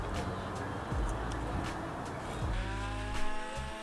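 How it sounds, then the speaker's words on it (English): A power sander working a reclaimed wood beam with 80-grit paper gives a continuous, buzzing motor whine over gritty abrasive noise, steady and close, with slight pitch shifts as the tool moves. "Next, I went ahead and sanded the entire beam"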